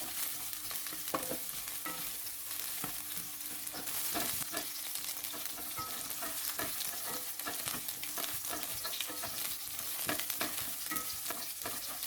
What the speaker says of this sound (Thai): ใส่ต้นหอมกับขิงลงไปเลยครับ ผัดให้หอมเลยนะครับ